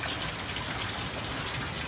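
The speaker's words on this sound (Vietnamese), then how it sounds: "mưa lớn như vậy đó mà quý vị biết không?" Heavy rain pours down on a hot day at a garden, a dense, loud, continuous hiss of drops striking surfaces up close, with no voices.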